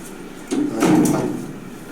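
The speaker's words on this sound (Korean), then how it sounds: "밖에 문을 닫고" An elevator's outer landing door slides shut after the inner car door during a passenger rescue drill, a single sustained rumbling slide lasting about a second, fairly close, with no talk.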